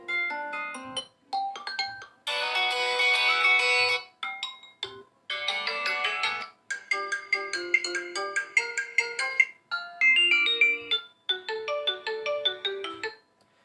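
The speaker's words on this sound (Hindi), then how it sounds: "यहाँ से रिंगटोन मैं आपको बढ़ा करके साउंड दिखा देता हूँ" A bright electronic ringtone on a Poco M3 phone plays a melodic tune in short repeated phrases with brief pauses, clear and close, no talking.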